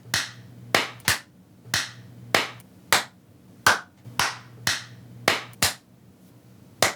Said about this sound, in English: here is a demonstration on before and after clapping